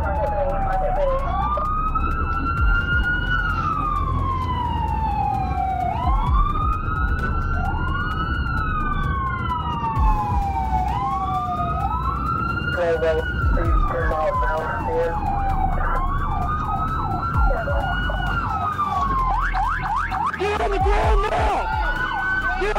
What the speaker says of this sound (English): Meet 18-year-old Armando Vinaja, a teenager who thought an April Fool's prank was best served with sirens and flashing lights by stealing an ambulance